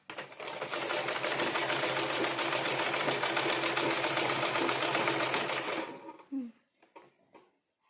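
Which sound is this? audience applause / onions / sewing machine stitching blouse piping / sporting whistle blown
sewing machine stitching blouse piping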